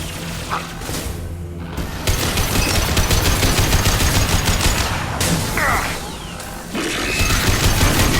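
Loud, sustained rapid gunfire from Mass Effect 2 Legendary Edition on PS5: dense overlapping bursts roll on almost continuously, with brief lulls near the start and again toward the end.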